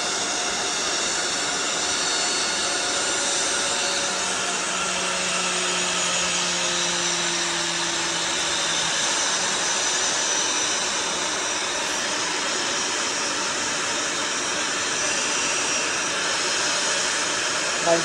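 An Air Congo passenger jet's engines roar steadily for the whole stretch, a broad loud whoosh with a faint tone sliding past briefly near the middle.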